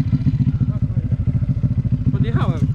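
A motorcycle engine idles and is held on a light throttle, a steady near, rapid pulsing chug with a brief clatter, while someone talks nearby.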